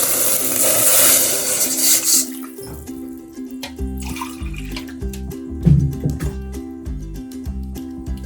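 About 1.5 cups of water pour into a pan for homemade jelly with a bright splashing rush for a couple of seconds, then stop, leaving background music playing with a few light clinks.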